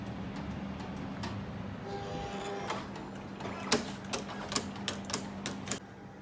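A Cameo 4 vinyl cutting machine cuts vinyl with a steady motor hum and a whirring carriage, followed by a string of sharp clicks and taps near the end.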